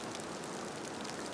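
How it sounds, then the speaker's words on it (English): Small hailstorm in the wilderness, a continuous dense hiss of tiny pellets pattering on surfaces, steady and fairly faint with no voices. "recording in the miniature hailstorm."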